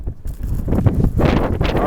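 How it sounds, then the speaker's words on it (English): Blizzard wind gusts through a snow-covered Chicago street during the 2011 storm, a steady loud rushing roar with swelling surges, heard alone without talk. "the wind is still moving, gusting those."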